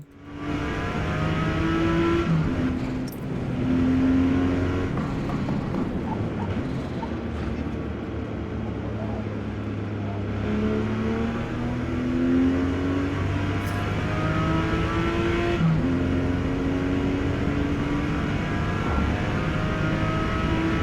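A race car in the Forza Motorsport racing game accelerates hard on a slippery track, its engine note climbing through gears with brief shift dips, loud and continuous throughout.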